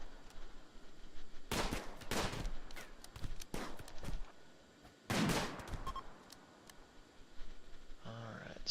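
Bursts of gunfire in the RimWorld colony-building video game, with two loud clusters of rapid shots and scattered single pops between them, plus light mouse clicks.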